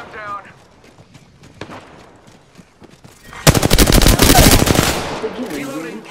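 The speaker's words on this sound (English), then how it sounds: "Shot fired. Contact with hostile. They're hitting me." Gunfire in the video game Apex Legends bursts in as a loud, rapid automatic volley lasting about two seconds after quieter moments of game sounds and voices.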